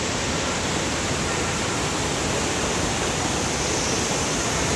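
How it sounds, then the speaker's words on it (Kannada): An indoor waterfall inside Bangalore airport gives a dense, steady rushing roar of falling water, loud and unbroken throughout with no other sounds. "ಸೊ ಇದು ವಾಟರ್ ಫಾಲ್ಸ್."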